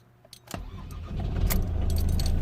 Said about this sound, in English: I haven't tried to crank the car yet. I'm just going to do it now, and fingers crossed it will start.